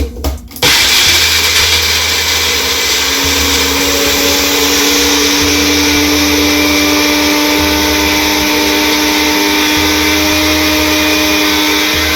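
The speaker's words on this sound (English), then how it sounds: "I'm using this my blender. First we need to blend these coconut pieces so that we can shred them." An electric kitchen blender grinds coconut pieces, starting with a quick click and then settling into a steady, loud, high-pitched motor whir that holds without a break.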